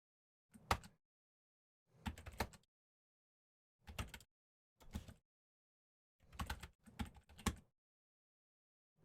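Quiet computer keyboard typing arrives in short separate bursts of rapid keystrokes with silent pauses between them, close and isolated with no talk.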